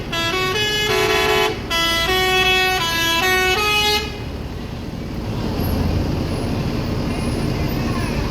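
A bus's Basuri V3 telolet air horn plays a loud, melodic run of honking tones for about four seconds, then a bus engine rumbles on at Balai Solok terminal.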